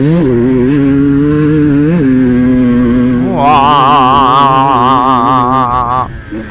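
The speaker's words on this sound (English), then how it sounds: "Especially on a two-stroke, that just sounds mint." Two-stroke enduro motorcycle racing uphill at Hawkstone Park, the engine loud and close throughout, pitch rising into a sharp high rev around the climb before easing off at the end.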